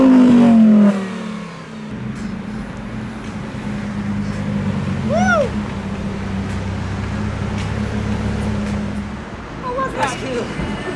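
A Lamborghini Huracan Performante Spyder drifts with its top down, its engine giving a loud opening rev and then a steady, sustained roar with tire noise, and a few brief chirps heard near the end.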